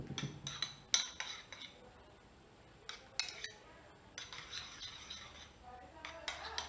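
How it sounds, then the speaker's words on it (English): Food coloring being stirred into shaving cream in a bowl, a quiet scene broken by scattered clinks and scrapes of a utensil against the dish at an irregular pace. "I'm gonna mix it together so I can get a purple color shaving cream"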